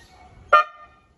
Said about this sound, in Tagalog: Yan yung magiging tunog ng bago natin busina.